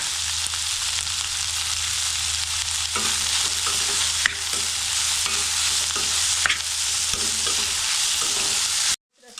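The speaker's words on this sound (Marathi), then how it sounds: "कोबी पण घालते सर्व भाज्या आपल्याला हाफ फ्राय करून घ्यायचं आहे" Cabbage and mixed vegetables half-frying in a pan for a veg frankie roll, with a steady hissing sizzle, repeated scraping stirs and clinks, and an abrupt cutoff at the end.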